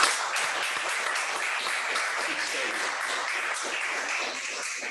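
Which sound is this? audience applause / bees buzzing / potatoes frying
audience applause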